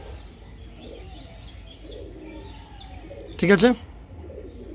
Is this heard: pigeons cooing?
yes